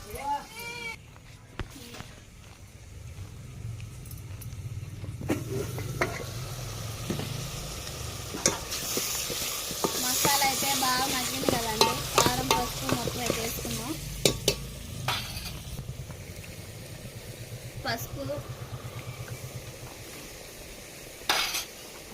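Masala and tomato paste, blended with green chillies and onions, frying in a pan for a mutton curry, with a constant sizzle and repeated scraping clinks of a spoon stirring, while someone talks over the cooking.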